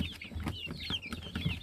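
Chicks and chickens cluck and peep close by on a rural farm, including Silkie-type black-skinned chicks, with repeated short chirps and soft clucks in quick succession and no talking.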